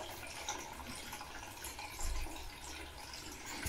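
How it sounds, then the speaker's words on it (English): Water rushes steadily into the housing of an ATLAS Filtri Duplex Plus 3P SX water filter, a continuous hissing flow with a brief surge partway through and no voices. "As I can see it, I think there are 3 holes through which water drips into both of them."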